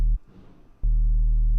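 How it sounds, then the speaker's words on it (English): Distorted, filtered sine-wave sub bass from a roller drum and bass track breaks off briefly and then returns as a steady, loud, close low drone, with no voices. "It's literally just a sine wave that is distorted and filtered"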